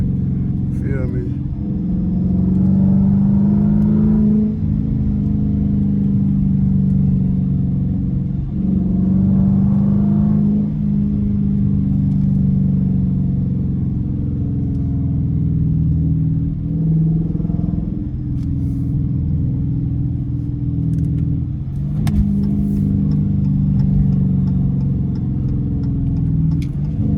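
A Dodge Challenger RT with straight-pipe exhaust rumbles loudly through traffic, its deep engine note swelling in repeated revs and surges, close and continuous, with a voice talking over it.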